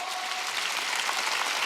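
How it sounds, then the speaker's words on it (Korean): A church congregation at a Wednesday worship service claps hard and fast in a dense, loud burst of applause, uninterrupted and with no voices over it. "박수 세게 좀 쳐"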